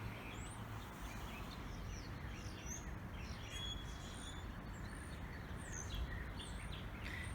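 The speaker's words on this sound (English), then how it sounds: "You can also hear the birds singing." Several birds chirp and trill in an urban cottage garden in spring against a constant low rumble, their short, high calls scattered throughout.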